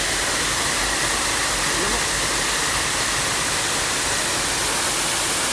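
Tarimes Falls on Mt. Rodriguez in Rizal pours in a loud, steady, broadband rush of falling water that continues without break, close and enveloping.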